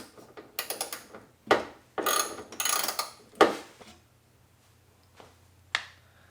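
A hand ratchet works a fender bolt loose on a Lexus GX470, with bursts of quick metallic clicking strokes separated by pauses and a few isolated clicks, close up over a low steady hum and no talking.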